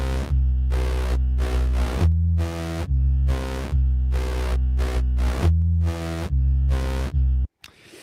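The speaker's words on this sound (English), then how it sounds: "it creates this gnarly ass synth" A gnarly, distorted synth set to zero resonance and full decay plays a rhythmic run of buzzy, harmonically dense chopped notes with abrupt gaps, loud and alone, then cuts off near the end.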